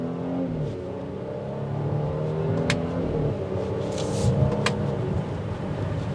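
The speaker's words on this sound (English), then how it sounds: "give her a little throttle here so you can hear that exhaust" A 2021 Mercedes-AMG GLC 43 engine idles, then rises in a steady rev, its throaty exhaust note swelling and holding near the listener, with a couple of sharp clicks.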